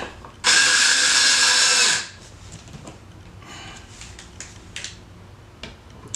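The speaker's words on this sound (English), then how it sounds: "I screw that about halfway in, then screw this one about halfway in, then I'll put them both tight." Power screwdriver driving screws into a household electrical outlet, one loud whirring burst of about a second and a half, followed by faint ticks and small handling sounds.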